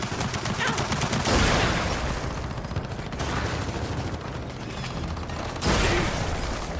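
Dense, rapid mechanical turret gunfire in Gears of War 4 dominates, loud and continuous, with heavier surges at intervals over a steady clattering din.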